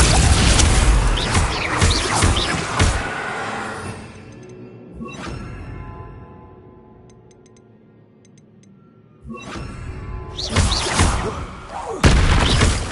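Confringo and Bombarda spell explosions in the Hogwarts Legacy video game, loud booming blasts with crashing debris. A quieter stretch in the middle gives way to more dense, roaring explosions.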